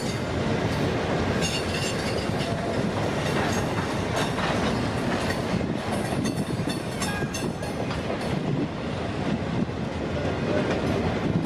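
A CPKC freight train with a new Tier 4 locomotive and a rear DPU rolls past close by, a loud continuous rumble with rhythmic clickety-clack of wheels and faint squeal, steady throughout.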